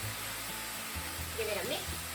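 Soy sauce added to a hot pan of corn and rice sets off a soft, continuous sizzle, a brief brighter hiss and splutter midway, with low background noise and a voice faintly present.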